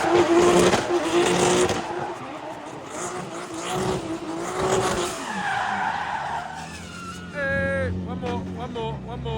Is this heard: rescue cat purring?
no